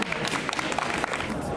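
An audience at the Fantasticon Montreal costume contest applauds in a brief burst of steady clapping, with voices over it.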